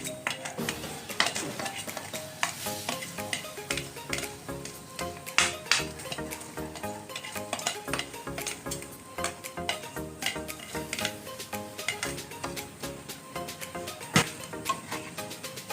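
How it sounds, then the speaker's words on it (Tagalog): Rice sautéing in a pot for arroz caldo with ox tripe, a spoon scraping and clinking against the pot in steady repeated strokes over a faint sizzle, close and moderately loud, with no talking. "igigisa muna natin itong rice"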